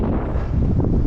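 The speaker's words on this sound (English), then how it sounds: "the wind is really picking up" A strong headwind blows on a long road ride, a steady, loud low rumble of wind buffeting the microphone throughout the short stretch.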